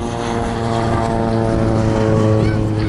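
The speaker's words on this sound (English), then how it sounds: "You can see some PC-7s. That's the Swiss. Taking to the skies." Swiss PC-7 turboprop trainers taking off at an RAF Cosford air show, a loud steady propeller drone with a strong tonal engine hum throughout.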